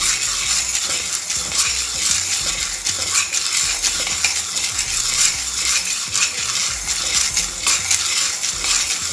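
Lentils dry-roasted for idli podi, stirred continuously in a pan, making a steady rattling, scraping rustle of grains against metal, close and even throughout with no voices.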